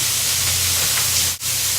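Onions, bell pepper and celery sizzling in hot olive oil for grillades, a steady close frying hiss with a faint low hum underneath and one brief dip near the end.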